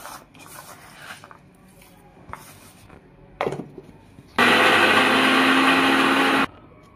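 Electric mixer grinding ginger, garlic and coriander into a paste, a loud steady whir running about two seconds after some quieter handling and clatter.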